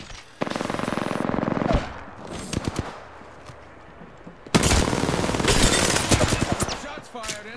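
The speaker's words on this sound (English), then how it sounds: "Shots fired and they're hitting me." Automatic gunfire rattles in dense sustained bursts during a squad-based shooter match, with a loud opening burst, a quieter stretch of scattered shots, then another long loud volley close by.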